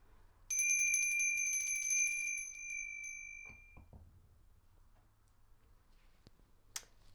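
A single bell strike rings out bright and sustained for about three seconds before fading, followed by a few soft knocks and a small click.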